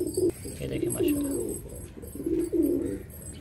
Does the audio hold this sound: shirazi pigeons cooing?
yes